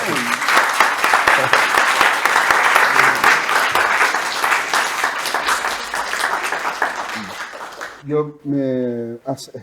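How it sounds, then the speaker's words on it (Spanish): An audience applauds steadily and loudly for about eight seconds at a Spanish-language talk, then the clapping fades and a single voice speaks close by. "Mira, aplauso."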